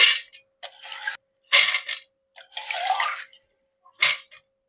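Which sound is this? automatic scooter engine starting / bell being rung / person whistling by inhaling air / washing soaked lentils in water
washing soaked lentils in water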